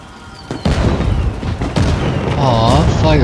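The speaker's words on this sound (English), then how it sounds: "Aw, fireworks." Fireworks go off in the video game Death Stranding 2, a loud burst of booming bangs and crackling blasts that keep up through the clip, with a voice speaking over them toward the end.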